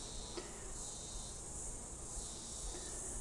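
Honeybees hum on a brood frame of naturally drawn comb inside a hive, a steady close drone with no voices.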